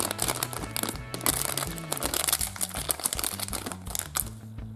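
A Mini-lenta toy packet is torn open and crinkled by hand, a busy, close crackle of thin plastic in quick bursts, with tuneful background music playing underneath throughout.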